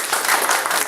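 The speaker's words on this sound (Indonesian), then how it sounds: "Tepuk tangan buat Prof. Syafiq." An audience claps together for a professor after a talk, a dense burst of applause heard at close range with no voices over it.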